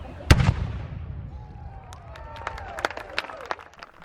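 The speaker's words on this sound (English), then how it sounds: "It was the firing of a cannon." A single cannon fires at a colonial historic site during a Fourth of July event, one sharp loud boom up front that rumbles and decays, followed by scattered crowd noise and clatter.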